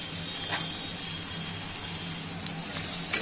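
Mushrooms sautéing in a pan with ginger and garlic, a steady soft sizzle with faint crackles and a low hum running underneath throughout.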